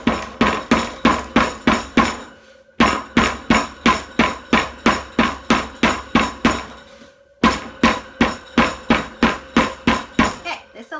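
A rolling pin whacks pie crust dough again and again, sharp loud thumps in quick rhythmic bursts of about a dozen blows, with two short pauses between the runs.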